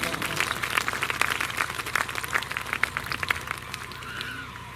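Congregation at an anniversary river gathering claps in a rapid patter of many hands, moderately loud and fairly even, with a voice speaking partly over it before the clapping thins at the end.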